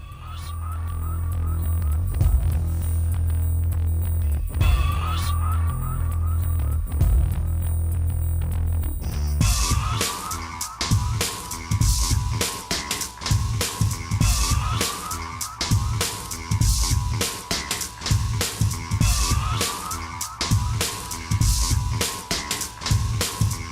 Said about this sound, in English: going to turn our music back up so you can hear it